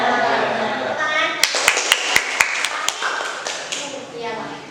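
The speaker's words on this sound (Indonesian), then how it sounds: "Tepuk tangan." Students in a classroom clap in a quick rhythmic pattern of about eight sharp, distinct hand claps, surrounded by children's chatter and background talk.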